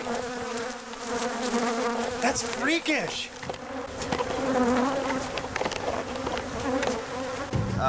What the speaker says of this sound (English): But the bees continue their relentless attack.